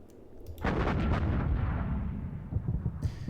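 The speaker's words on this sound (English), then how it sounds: "And those howitzers, I probably want to use these." Howitzer artillery fire in the wargame Panzer Campaigns Minsk 44: a sudden loud booming blast that rolls on and decays over a few seconds, with a further thump near the end.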